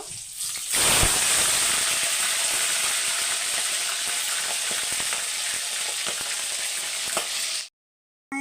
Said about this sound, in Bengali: এখানে আমি মাংসগুলো দিয়ে দেব